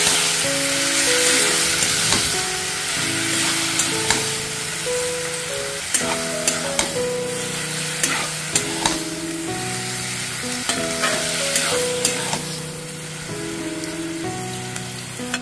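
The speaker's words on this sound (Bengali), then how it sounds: "এবারে এর মধ্যে ম্যারিনেট করা ফুলকপিটা দিয়ে দিচ্ছি।" Marinated cauliflower florets for a cauliflower roast fry and sizzle steadily in a pan while being stirred, with repeated scraping and clinking strokes over continuous broadband crackle and a faint tonal background, no talking.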